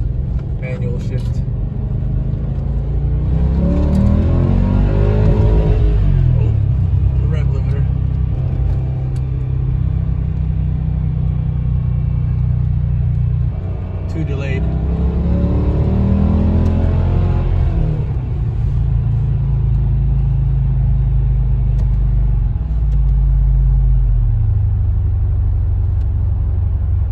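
Mercedes ML55 AMG engine revving and accelerating through manually shifted gears, a loud steady low rumble that rises in two surges with a dip between them, while people talk over it.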